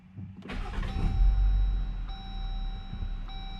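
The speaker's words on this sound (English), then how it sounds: "So here is the startup of the factory exhaust." Jeep Gladiator with factory exhaust starting up: a starter whir and catch, then a quiet, smooth idle with steady engine rumble and faint electrical whine close by.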